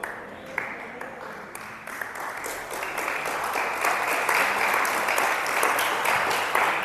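A church congregation breaks into applause, scattered claps at first swelling into steady, dense clapping that fills the room and holds strong to the end.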